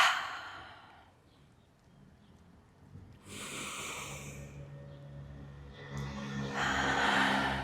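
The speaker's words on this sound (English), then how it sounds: "and out through the mouth" Deep exhalations through the mouth during a home balance workout, two or three soft, breathy sighs spaced a few seconds apart, close and fairly quiet with no talking.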